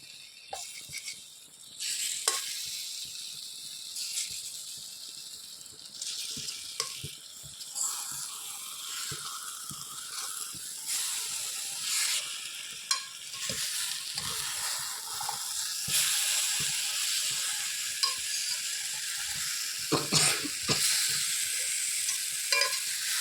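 Spicy egg drop gravy sizzles and fries in a pan while a utensil stirs and scrapes it in irregular bursts, steady and close, with no talking.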